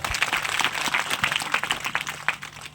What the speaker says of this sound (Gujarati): એમને પણ તાળીઓથી વધાવો